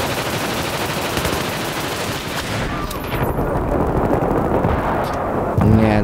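Gunfire in Battlefield 3 on Operation Metro, including a shotgun fitted with a sniper scope, rattles loudly and densely throughout amid a chaotic battle din, with heavy bursts toward the end.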